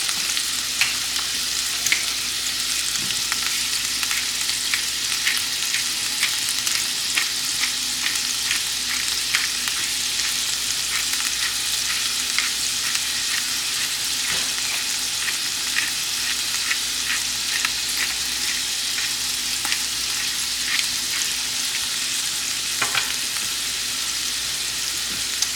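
A seasoned smash burger patty sizzles on a hot griddle for about 25 seconds, a dense, even crackling hiss with tiny pops throughout, close and steady, with no talking.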